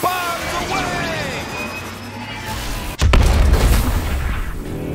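In Knockout City, a teammate hurled as an ultimate throw crashes down as one loud, heavy boom with a deep rumbling tail, landing after a few seconds of busy game sounds.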